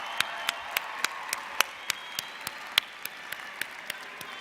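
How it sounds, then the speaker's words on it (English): Commencement audience applauding graduates' families and mothers, a steady sustained clapping wash punctuated by a regular series of sharp, close claps. "Dear students, please give a round of applause for your family and those who have supported you"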